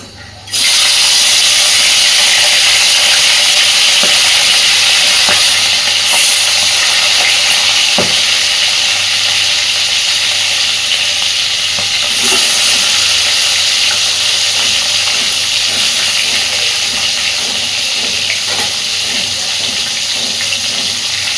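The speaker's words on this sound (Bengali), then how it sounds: "তেল সুন্দর গরম হয়ে গেছে, এবার আগে মাছগুলোকে ভেজে নেব।" Large tilapia frying in hot oil, a steady loud sizzle and hiss running continuously close up, with faint crackles and pops scattered through.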